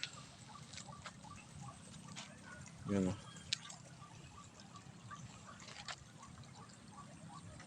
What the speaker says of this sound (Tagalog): Lakas ng agos guys,